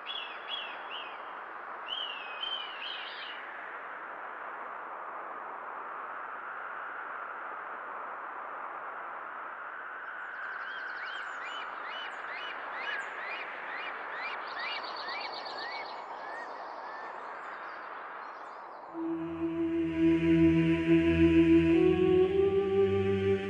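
Birds call and chirp in a rocky gorge among fir trees, faint whistled notes over a steady wash of noise, with louder tonal sounds entering near the end.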